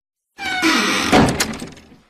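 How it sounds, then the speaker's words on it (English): The TARDIS door swinging shut as a sound effect, a creaking scrape followed by a solid thunk, close and loud, then a quick fade to silence. "the Doctor stepped past her and closed the TARDIS door"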